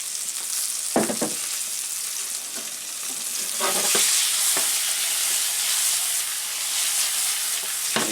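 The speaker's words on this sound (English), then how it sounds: "Meatballs are cooking nicely." Jamaican curry chicken meatballs sizzle and fry steadily in a pan, a close hiss under a few scraping stirs and clinks, with no talking.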